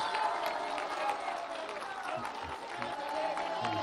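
Crowd applause for migrants at a Mexican presidential public event, steady and dense throughout, with scattered shouts and voices mixed into the clapping.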